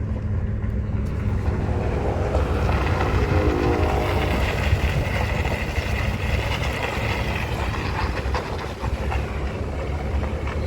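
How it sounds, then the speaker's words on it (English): A heavy freight train rumbles past up close, a steady loud roar of rolling wagons with faint rhythmic clacking; no clear whistle stands out. "hearing that whistle means they're making some money today"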